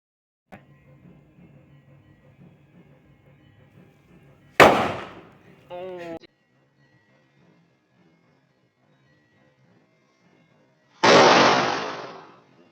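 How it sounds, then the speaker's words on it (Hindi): Two sharp, loud bangs go off several seconds apart, the second followed by a short trailing rumble, with faint background chatter and a brief electronic chirp between them. "get ready for blast"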